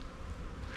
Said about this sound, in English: I was like, what's that buzzing behind me?